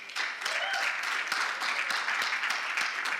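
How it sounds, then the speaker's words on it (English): Applause from a conference audience thanking the organizing committee, a dense, steady patter of many hands clapping at moderate distance, sustained evenly throughout without a clear start or end. "So let's give them a clap."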